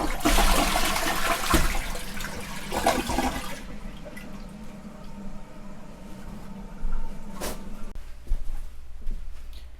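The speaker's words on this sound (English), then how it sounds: "All right, getting ready to flush." A toilet on a tiny houseboat flushes with a loud rushing gush that drains away, leaving quieter trickling and refilling water.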